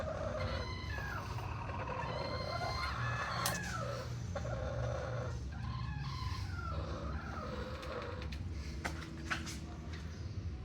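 A five-month-old stag rooster crows in short, strained calls amid clucking from other fowl, heard against steady outdoor background noise, moderately close.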